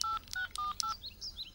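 A cell phone being dialed gives a quick run of about five distinct keypad tones, then softer electronic beeps, close and clear with no talk.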